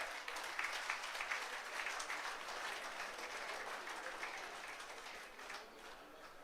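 Sustained applause from an audience at a World Yoga Day event as the Chairman of TWC Sindh takes the stage, a dense, steady clapping that holds throughout and eases off slightly toward the end.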